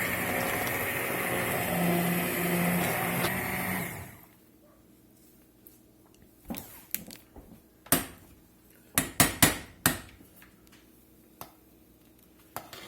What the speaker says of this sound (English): We're going to get a stick blender off in there and get that smoothed out.